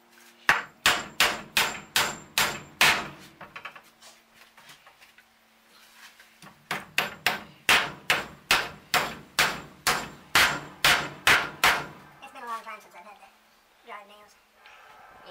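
Sharp, rhythmic hammer blows drive nails into wood during a roof raise, in two quick bursts of about a dozen hits each, close and loud, followed by someone talking.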